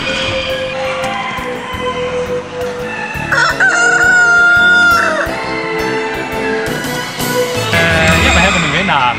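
Roosters at a poultry exhibition crow loudly and repeatedly close by, their long calls overlapping one another throughout.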